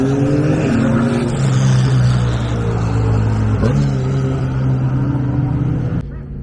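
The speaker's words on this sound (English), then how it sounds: "we have a lot of cars taking parade laps" Cars on parade laps at Atlanta Motorsports Park, a loud continuous engine drone with rising and falling pitch as vehicles pass close by, ending in a sudden cut.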